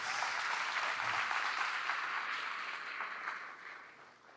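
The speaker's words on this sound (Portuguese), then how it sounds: "dê um aplauso bem forte a eles" Loud, dense applause from a large church conference crowd, steady throughout and tapering slightly at the end.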